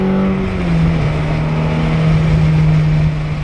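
A Ferrari F430 Berlinetta F1 supercar engine revs loudly and up close, a sustained low growl whose pitch dips briefly and then holds steady.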